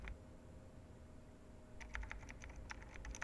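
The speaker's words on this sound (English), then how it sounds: "Alright, there's sounds of typing." Typing sound effects from the video game Void Stranger: after a quiet stretch, a rapid run of soft keyboard clicks begins and patters on steadily to the end, faint and without voices.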